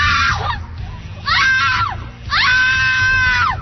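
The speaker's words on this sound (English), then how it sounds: "Halloween scream." A woman screams three times, drawn out and shrill, each cry rising and then falling. The screams are loud and up front over a low background rumble, fitting a Halloween scare.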